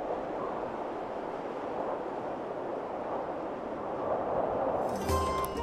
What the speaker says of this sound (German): Willkommen auf den Falklandinseln, wo uns beeindruckende Landschaften, aber auch ein ordentlicher Sturm erwarten.